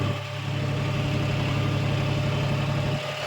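Diesel engine of a John Deere 5045 tractor pulling a five-bottom plough under heavy load, a steady loud rumble with a slight dip in revs, continuous and close with no talk.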